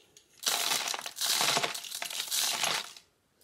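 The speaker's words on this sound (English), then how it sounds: "Then let's put in the rock salt." Coarse rock salt poured into a plastic shaker bottle through a funnel, making three loud gritty rattling and crunching bursts of grains hitting plastic, with short pauses between them.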